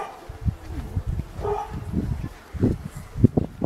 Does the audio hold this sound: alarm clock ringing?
no